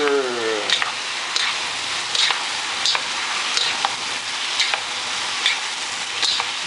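Mee goreng stir-fried with chopsticks and a spatula, a continuous loud sizzle broken by regular scraping and tapping strokes against the pan, close up, with a voice talking briefly at the start.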